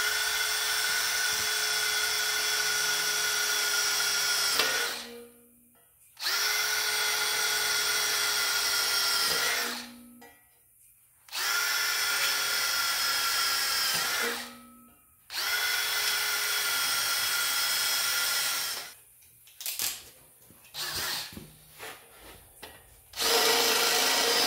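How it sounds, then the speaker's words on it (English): A power grinder strips rust from the metal around a car window in long, loud, steady bursts of several seconds each, separated by brief pauses. Shorter, choppier grinding passes come near the end. "I'm going to grind all this off down here"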